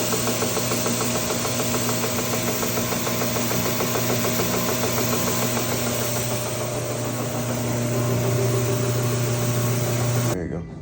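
A used edge sander works a wooden stove vent hood with a loud, steady motor whine and grinding drone that holds constant before cutting off abruptly near the end.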